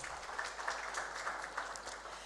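An audience at an international trade seminar claps for a managing director, with a steady, fairly faint wash of many hands applauding, continuous and even throughout with no voices on top.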